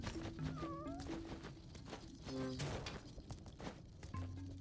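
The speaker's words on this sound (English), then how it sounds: "I hear a cat." In the Spelunky 2 video game, a cat gives a couple of faint, rising meows, low in the mix beneath steady game music and ambient sound effects.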